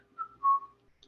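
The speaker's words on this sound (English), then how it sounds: "whistling cheerfully." A man whistles a short cheerful tune in two sustained notes, close and clear, while working behind a tavern bar setting up mugs.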